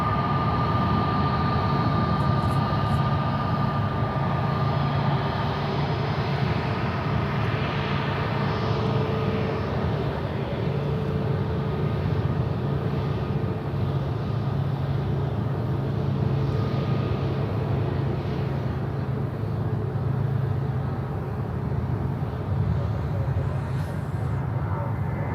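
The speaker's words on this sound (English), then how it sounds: "This is a 321 Neo. This is a Neo coming in from Phoenix in Arizona." An Airbus A321neo on arrival at Charlotte airport, a continuous broad jet-engine roar that stays loud and steady for the whole stretch, with no talk over it.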